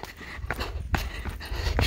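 A person climbing stairs breathes hard in rapid, heavy panting, with repeated sharp breaths close up against faint background noise.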